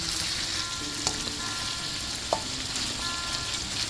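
Cajun Asian fried rice stir-frying with Thai soy sauce in a hot pan, a loud continuous sizzle with a few clinks of the utensil, no talking.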